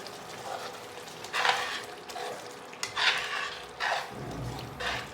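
Chicken samma masala cooking in oil in a pan, with a steady sizzle and bursts of scraping as it is stirred every second or so, close up and with no talking.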